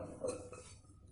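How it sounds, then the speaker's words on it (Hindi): Chopped carrot pieces are dropped into a pressure cooker, a brief muffled clatter of vegetables against metal, close and without talk. "अब इन गाजरों को हम डाल देते हैं प्रेशर कुकर में"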